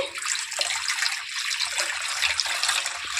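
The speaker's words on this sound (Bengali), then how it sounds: "এখন আমি এটাকে জলে সেদ্ধ করে নেব তো এখানে আমি এখন জল দিয়ে দিচ্ছি" Water pours into a pot for boiling banana flower, a continuous loud splashing rush that lasts throughout without any talk.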